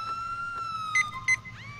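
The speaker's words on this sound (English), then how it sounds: "Alright, I'm gonna shut my siren up." A police car siren in the video game GTA with the LCPDFR mod sounds as a steady electronic wail with a few short pulsed blips, then ends in a quick rising sweep as it is switched off.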